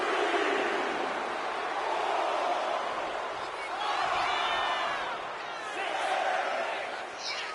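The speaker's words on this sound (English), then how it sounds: "Styles drawing a big reaction from the crowd." Arena crowd in the WWE 2K25 wrestling game roars and cheers in sustained swelling waves, loud and continuous throughout, rising to several peaks.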